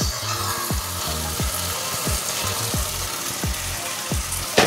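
Chilli chicken stir-fried with chilli sauce and tomato sauce in a pan, a constant loud sizzle broken by regular rhythmic scrapes of the spatula tossing the meat, close up with no talk.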